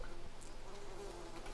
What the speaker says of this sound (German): Bienen.